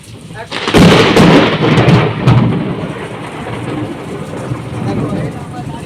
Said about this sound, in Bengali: এত হাওয়া, জল, বৃষ্টি